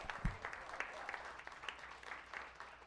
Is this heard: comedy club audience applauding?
yes